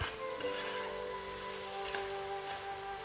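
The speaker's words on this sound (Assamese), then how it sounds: "নিমখ আৰু হালধিখিনি লৈ এইখিনি মই পুনৰ ভালদৰে লৰাই লৰাই ভাজি থাকিলোঁ।" Chicken pieces seasoned with salt and turmeric sizzle softly in a pan while being stirred, a low continuous frying hiss with occasional scraping of the spatula, no talking.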